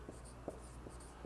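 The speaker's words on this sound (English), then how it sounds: "you're going to write this down" A pen writing on paper, soft quiet scratching strokes in a short rhythmic series, close by and alone.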